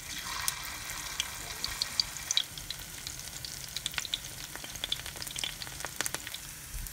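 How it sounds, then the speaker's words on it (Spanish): Cauliflower pieces fry in hot oil in a vegan orange chicken recipe, giving a steady close sizzle with scattered pops and crackles and no talking. "Ya que está caliente el aceite, le voy a agregar los pedazos de coliflor aquí adentro. Los voy a llevar a freír."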